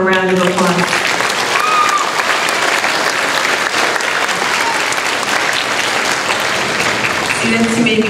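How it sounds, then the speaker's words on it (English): Loud, sustained applause from an audience at an 8th grade graduation ceremony, many hands clapping densely, with brief voices at the start and end. "Let's give them one more round of applause."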